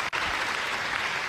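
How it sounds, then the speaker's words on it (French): A regional awards ceremony audience gives a short burst of continuous applause, with dense, even clapping that is moderately loud and fills the hall. "Là, on va l'applaudir"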